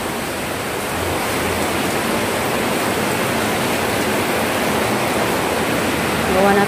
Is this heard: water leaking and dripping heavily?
yes